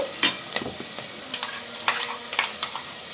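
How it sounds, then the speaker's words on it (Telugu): Onions frying in a pan for a Telugu-style goat head curry, with soft crackling sizzle and a few sharp scraping stirs of a spoon against the pan, close and steady. "ఉల్లిపాయలు వేగనిద్దామండి కొంచెం"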